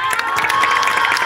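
A school audience at a backpack-free day competition breaks into lively cheering and clapping, a dense continuous crowd sound with children's shouts, loud and close throughout.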